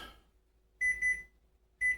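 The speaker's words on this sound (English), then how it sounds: "And there is the timer." A kitchen timer for a pizza baking in the oven beeps in two short, bright bursts about a second apart, clear and close in an otherwise quiet room.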